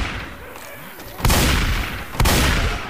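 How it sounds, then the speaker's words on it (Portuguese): A shotgun fires in the video game Left 4 Dead 2, two loud booming blasts about a second apart, each with a heavy decaying tail over low game background. "A escopeta já é uma turbina, combinada com munição explosiva"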